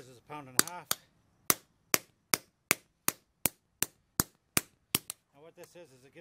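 A 2-pound rounding hammer strikes a metal hinge about a dozen times in a steady rhythm, each blow sharp and ringing, with someone talking before and after.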